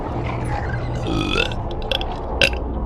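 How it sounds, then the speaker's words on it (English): A drawn-out belch rumbles through the middle of the clip, followed by a couple of short, sharper burp sounds near the end, loud and close against a steady background hum. "A good burp."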